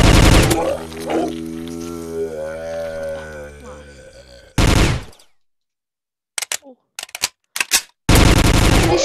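Pistol shots in the zombie shooter game Zombie Warfare: a few sharp, brief cracks spaced irregularly after a long, loud growling tone, with heavy broadband blasts framing them.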